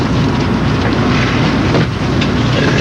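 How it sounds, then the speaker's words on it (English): Steady loud rushing rumble of a Japanese bullet train ride, constant interior roar and wind-like noise with no distinct events, heard close from inside the carriage. "what do you think of the bullet train experience?"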